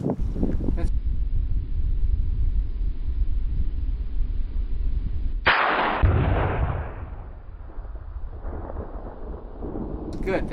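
A rifle fires a single loud, sharp shot at an outdoor shooting range, followed by a long rolling echo that fades over several seconds amid muffled wind noise.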